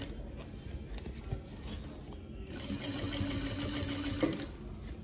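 An industrial sewing machine stitches the hem of a pair of trousers, a quiet, rapid mechanical chatter that runs continuously, with a brief pause and restart partway through and a small knock near the end; no one talks.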